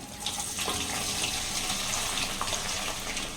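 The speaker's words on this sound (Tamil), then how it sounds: "ஆயிலில் பொரிச்சிடுவோங்க, நல்லா பொரிச்சு எடுத்துடணும்." Turkey berries frying in heated oil for a village-style tamarind curry, giving a steady, even hiss that holds without a break, with no voices.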